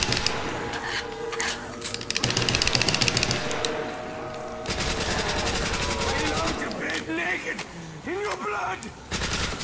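An M1911 pistol fires in Black Ops 1 Zombies on the Der Riese map, with quick runs of sharp shots in clusters amid clattering game effects and a person talking.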